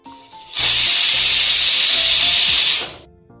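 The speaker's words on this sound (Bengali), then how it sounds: "একটা সিটি দেওয়া হয়ে গেছে" A pressure cooker on a stove, cooking khichuri, lets out a single loud, sustained hiss of steam from its whistle for about two seconds, close by, then cuts off, with quieter kitchen sounds before and after.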